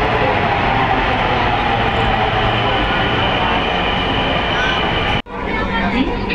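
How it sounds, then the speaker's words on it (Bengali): Ride aboard the Dhaka metro rail from Mirpur 10 toward Uttara: a loud, steady rumble of the moving train heard from inside the carriage, with a sudden brief drop near the end. "এই মেট্রো রেলে চড়ে আমরা যাবো উত্তরা পর্যন্ত"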